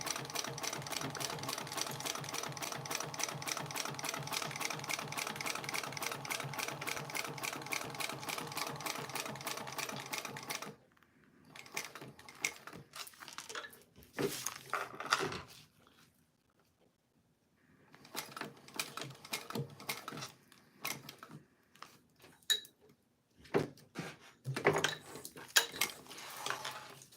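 Sewing machine stitching steadily for about ten seconds with a dense rapid mechanical rhythm, then shorter stop-start bursts of stitching with pauses between them, close and fairly quiet.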